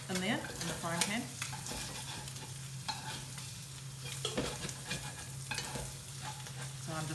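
Egg noodles stir-fried in a frying pan, a steady close sizzle with repeated scraping and clattering stirs throughout, plus a constant low hum beneath.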